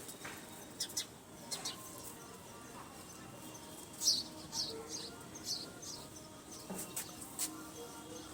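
A restless Chennai line pigeon in a loft, with other birds around, produces faint scattered chirps, scuffles and fluttering bursts at irregular intervals, quiet and close with light background hiss.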